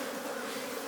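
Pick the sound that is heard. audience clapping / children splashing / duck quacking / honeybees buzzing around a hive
honeybees buzzing around a hive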